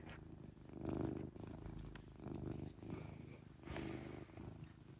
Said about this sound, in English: And he has a loud motor of a purr.